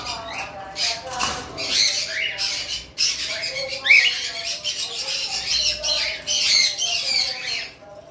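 Several cockatiels squawk and chirp repeatedly in a lively, overlapping chorus, close and continuous with brief gaps.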